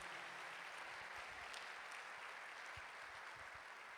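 A church congregation applauds during a family worship service; the steady, dense clapping stays faint and distant throughout.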